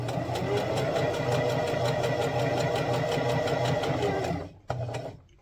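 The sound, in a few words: sewing machine stitching paracord onto fabric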